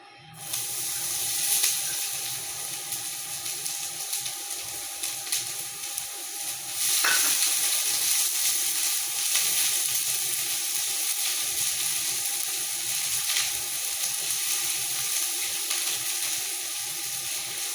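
Sliced onion, tomato and ginger frying in hot oil in a pan, a steady loud sizzle with a bright hiss, stirring scrapes and a burst of spattering partway through, continuing without speech.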